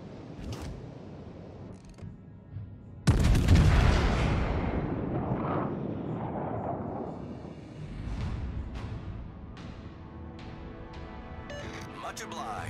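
Heavy naval gunfire from the battleship HMS Queen Elizabeth in World of Warships, one loud booming salvo with a long rumbling decay and mechanical clanks, heard alone without talk.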